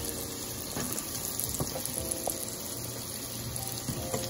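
Rice balls frying in hot oil on medium heat: a dense, continuous bubbling sizzle with scattered pops and crackles, steady and close, with no talking.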